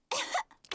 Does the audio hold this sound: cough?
yes